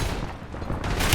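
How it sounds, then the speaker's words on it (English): Gunfire in the video game Warzone during a quads match, a dense rattling burst of shots running continuously with a heavier boom near the end, loud and close. "Incoming fire!"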